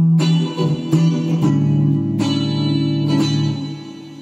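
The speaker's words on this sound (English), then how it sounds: "This is a setting that makes it sound like you have an acoustic guitar." Guitar chords strummed through an effects pedal with a bright, acoustic-like tone, several strums ringing out and slowly fading.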